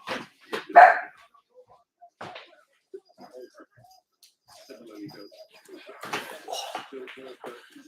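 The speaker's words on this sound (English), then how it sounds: "There's a dog. She's barking." A dog barks a few sharp times in short bursts, with quiet gaps between, while a person talks nearby.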